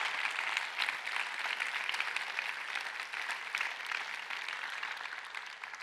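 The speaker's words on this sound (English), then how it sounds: "can we actually get a round of applause for my mom?" An audience at a keynote talk applauds steadily for a few seconds, a dense, even patter of many hands heard from a slight distance.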